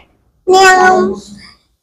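A toddler of about fifteen months imitates a cat's meow, one drawn-out mew lasting about a second, close and fairly loud, with silence before and after.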